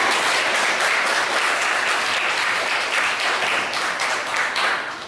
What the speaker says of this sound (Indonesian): kasih aplaus Mbak Vila